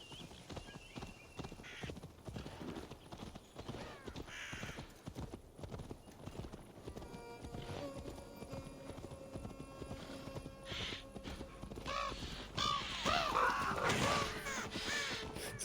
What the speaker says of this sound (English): Just running over all the birds on my horse.